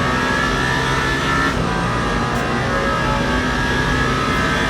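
Ferrari GT3 race car engine in the Le Mans Ultimate racing game, a steady loud droning roar holding high revs throughout with no gaps.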